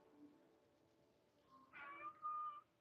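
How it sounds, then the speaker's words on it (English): A pet cat gives a faint, short meow followed by a longer drawn-out one, soft and somewhat distant over a quiet room hum. "Just excuse my cat."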